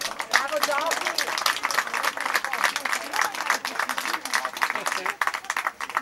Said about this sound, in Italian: Ora un applauso